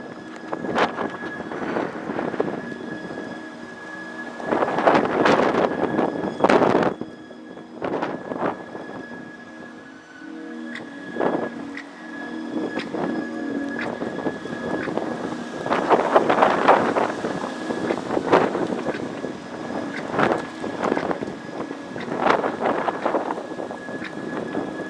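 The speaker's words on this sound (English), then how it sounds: "Check out this dust storm." Strong dust-storm winds in Phoenix, Arizona, sustained around 40 miles per hour, roar and buffet the microphone in repeated heavy gusts that swell and ease over a constant rushing background, with a faint steady tone underneath.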